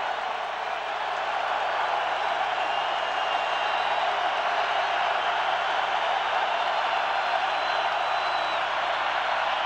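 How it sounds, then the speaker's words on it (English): Steady, loud roar of a packed college football stadium crowd during a 1999 Oklahoma Sooners versus Colorado game on third and 10, a continuous wall of cheering and noise with no break. "now listen to the crowd as it's 3rd and 10 for the Sooners"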